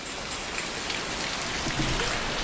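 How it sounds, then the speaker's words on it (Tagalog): Heavy typhoon rain pours down steadily, a dense, even hiss of drops with no voices and no breaks. "ang lakas na naman ng ulan"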